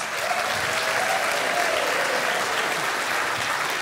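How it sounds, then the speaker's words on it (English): Game show audience applauding a pair of contestants, a dense, steady wash of clapping held at an even level throughout, close and filling the room with no voices over it. "Thank you for that smattering of applause."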